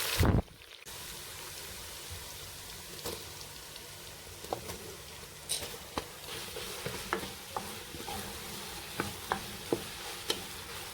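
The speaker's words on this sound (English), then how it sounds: "Just fry it a little bit, very little, not much." Onion fries quietly in a pot for Nigerian okra soup, with a soft continuous sizzle and scattered clicks and scrapes of stirring throughout.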